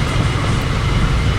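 An Indian Railways train in a train driving video game rumbles along the track, a dense continuous roll with faint rhythmic clicking from the wheels.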